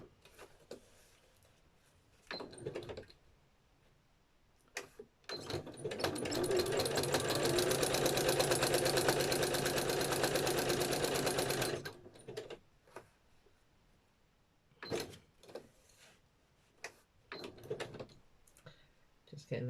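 A sewing machine zigzag-stitches the pages of a gelli-printed art journal in one steady, rapid, rattling run of about seven seconds, with quiet talk and handling clicks before and after.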